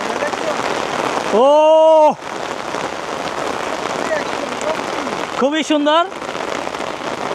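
Heavy rain pours down in a steady, dense hiss that runs the whole time, while a person speaks briefly twice over it.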